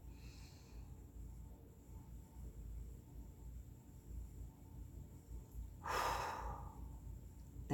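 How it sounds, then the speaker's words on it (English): A person does 4-7-8 relaxation breathing: a soft nasal inhale, a long quiet hold, then a loud, forceful whooshing exhale near the end, close to the microphone, over low background noise. "You breathe in through your nose to the count of 4. Then you hold your breath to the count of 7. And on number 8, you breathe out with a whoosh."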